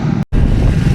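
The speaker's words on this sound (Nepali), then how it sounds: "डेन्जर हावा चल्न थाल्यो यार" Strong wind buffets the microphone at high altitude on a Triumph motorcycle ride through Mustang, a loud, continuous roar broken only by a brief dropout.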